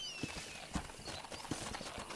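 Horse hooves clip-clop in a steady trotting rhythm in the Western video game Red Dead Redemption on PS3, close and clear, with a faint whinny and a few quiet voice sounds underneath.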